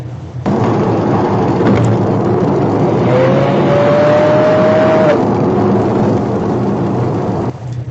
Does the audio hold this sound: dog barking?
no